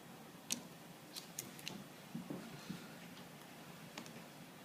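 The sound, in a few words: cutting out vending machine decal pieces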